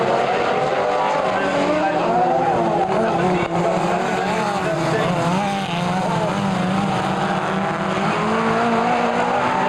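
Midget speedway race cars roar around a dirt track at Kihikihi Speedway in New Zealand, a loud continuous engine drone with shifting revs throughout, while a commentator talks over the noise.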